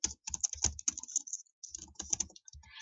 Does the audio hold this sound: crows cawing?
no